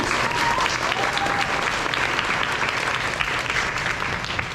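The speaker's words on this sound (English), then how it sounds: "let's give a round of applause for him anyways" An audience at a summer band camp concert applauds a low brass teacher: dense, sustained clapping from a full room, loud and even throughout with no voices over it.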